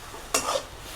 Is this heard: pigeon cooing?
no